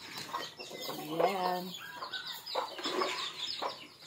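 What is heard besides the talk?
chickens clucking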